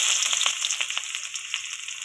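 Onion frying in a pan for a homemade whole-wheat-flour pasta, giving a steady broadband sizzle with soft crackles and a few faint scraping taps, close and alone throughout.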